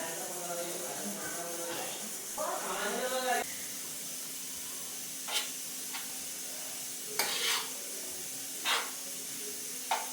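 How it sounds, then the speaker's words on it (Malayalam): Masala for a tripe curry fries in a pan while being stirred constantly, giving a steady steamy hiss with intermittent scraping strokes; a voice talks briefly at the start. "കൈവിടാതെ ഇളക്കി കൊടുക്കണം അല്ലെങ്കിൽ കരിഞ്ഞു പോകും"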